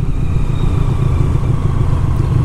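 Automatic shaft-drive motorcycle accelerating, a loud, close, rough engine rumble that stays dense and steady without any voices.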